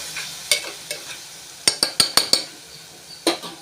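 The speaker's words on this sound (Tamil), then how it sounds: "நம்ம எடுத்து வச்சுருக்க முட்டையும் ஆட் பண்ணிடலாம். ஆட் பண்ணிவிட்டு இதையும் நல்லா மிக்ஸ் பண்ணிடலாம்" Egg being stirred into frying carrot and vegetables in a pan for egg carrot rice, with a utensil scraping and tapping the pan in quick separate strokes over a soft sizzle, close and fairly clear.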